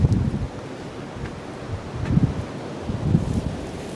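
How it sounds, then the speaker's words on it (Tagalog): Strong wind blowing outdoors buffets the microphone in low rumbling gusts that swell and fade every second or so, alone with no voices. "dahil mabagsik yung hangin"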